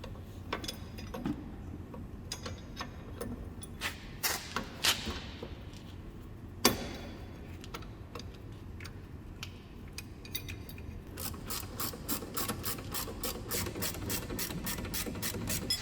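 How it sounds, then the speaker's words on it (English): A wrench ratchets a spring compressor tight on the front coil spring of a BMW i3 suspension, giving quiet, close clicks that come in short bursts and then a quick, regular run of ticks near the end. "Next thing I'm going to do too is compress this spring"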